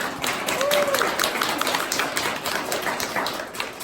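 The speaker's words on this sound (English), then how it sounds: "Can we give her a round of applause?" Applause from the audience at a live LPS convention panel: a steady, dense patter of clapping that holds for about four seconds at moderate loudness, with faint voices mixed in.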